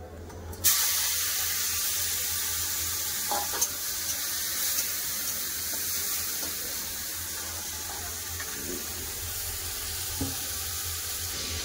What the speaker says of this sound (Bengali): এবার ভেজে নেবো চিংড়ি মাছ।